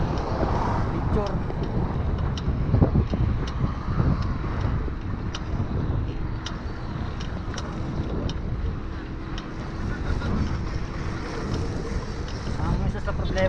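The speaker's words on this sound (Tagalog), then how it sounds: "Masyadong malakas yung hangin sa lubong sa ride." Strong wind buffets a GoPro during an outdoor ride, a steady loud roar of wind noise across the mic throughout, with intermittent ticks and light talk under it.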